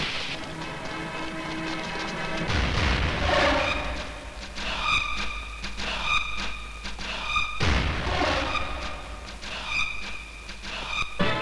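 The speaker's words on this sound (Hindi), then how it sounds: "अरे ये तो तमंचे की आवाज है भैया" Two loud, sharp country pistol gunshots about five seconds apart, each with a heavy low thump, while steady tonal ringing sounds continue between and after them.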